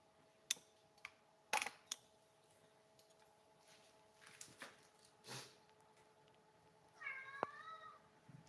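A cat meows once near the end, a short rising call, after a scatter of sharp ticks and clicks in an otherwise quiet kitchen.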